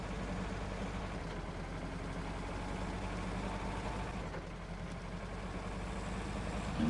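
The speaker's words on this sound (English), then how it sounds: "And this is only a very little tractor," A small farm tractor's engine idles steadily in the video game SnowRunner, a low, even rumble that holds at a constant level throughout with no speech.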